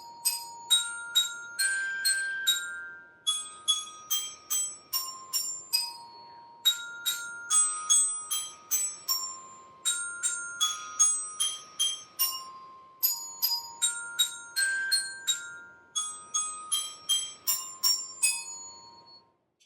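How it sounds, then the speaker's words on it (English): A familiar tune rings out on band bells, a melodic percussion instrument struck in quick bright notes with phrase gaps, each strike decaying with a clear shimmer, played alone and close. "I can play all kinds of songs and tunes on the bells."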